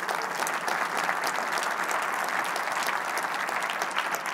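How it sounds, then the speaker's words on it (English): Conference audience gives a round of applause after keynote opening remarks: sustained, dense clapping from many hands, loud and even from start to finish with no voices over it. "Can I ask just for a round of applause for everybody who's helped to pull off this event?"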